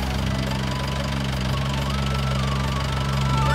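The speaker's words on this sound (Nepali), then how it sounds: "ट्र्याक्टर समस्या आएछ जस्तो छ, उहाँले समाधान चाहिँ गर्नुहुँदैछ।" Broken-down tractor stalled mid-road on a narrow village road in Lamjung, its engine running with a steady, loud knocking throb close by, low chatter faintly underneath.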